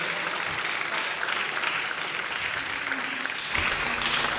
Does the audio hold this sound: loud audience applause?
yes